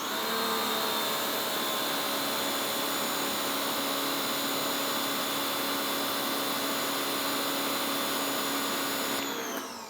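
Active electric pressure washer rated 1850 psi and 1.4 gpm with a 2.5 nozzle, a steady loud motor whine with high tonal hum, constant for nearly ten seconds before dropping slightly at the end.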